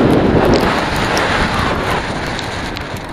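Strong wind and rain buffet the microphone during a bike workout, with a loud, steady roar and rushing noise.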